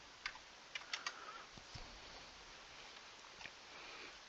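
A computer keyboard being typed on while entering C code, producing faint scattered key clicks in a few quick bursts against a quiet room background.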